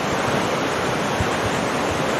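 A flooded river rushes beneath the Coquihalla Highway bridge, eating at its foundation, giving a dense, continuous roar of churning water that stays steady and loud throughout, with no voices.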